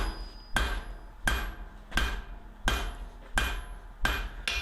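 Steel being hammered to draw a taper on a small chasing chisel: seven sharp, ringing blows in a steady rhythm, close and clear, with no talk.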